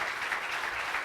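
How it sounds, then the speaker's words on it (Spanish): A brief, dense burst of audience clapping at a Mexico City event fills the moment evenly, with no voices on top. "Un aplauso para que se animen"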